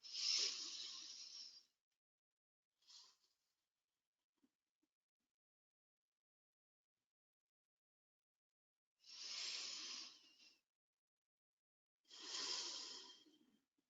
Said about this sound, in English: let's have a couple of lovely deep breaths